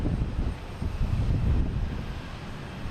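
Azores Airlines Airbus A321neo in natural livery at Boston Logan, a steady low engine rumble with wind buffeting, moderately loud and continuous with no voices.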